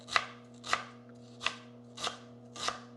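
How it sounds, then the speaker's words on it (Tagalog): A knife chopping ginger on a board, five crisp, evenly spaced chops about half a second apart, close and clear over a low steady hum. "Maghiwa lang tayo ng ginger."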